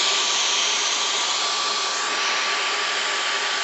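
A Dyson V15 Detect cordless vacuum cleaner runs close by with a loud, steady, airy whoosh and a thin high motor whine, with no pauses.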